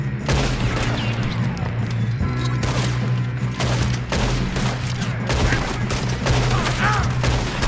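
Rapid bursts of gunfire from a Red Dead Redemption 2 shootout ring out loud and close, dense volleys repeating across the stretch over a steady low rumble.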